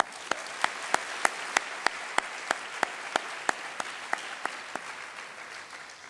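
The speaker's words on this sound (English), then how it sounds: "I think you deserve a round of applause" A graduation ceremony audience claps for office staff, a soft wash of distant applause with a few sharp, evenly spaced louder claps standing out near the microphone.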